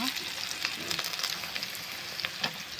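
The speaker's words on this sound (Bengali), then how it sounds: "আমার আলুগুলো লাল লাল করে ভাজা হয়ে গেছে।" Potatoes sizzle as they fry in hot oil in a pan during home cooking, giving a soft, continuous crackle with occasional sharper pops and light stirring, heard close and fairly quiet.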